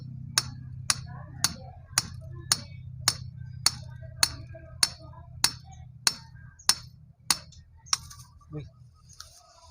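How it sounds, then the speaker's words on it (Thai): Rubber mallet hammering while a water heater is installed on a job site: about fourteen sharp, evenly spaced blows over a steady low hum, close and loud, the rhythm slowing slightly near the end. "คอนยางตอกไม่ลง"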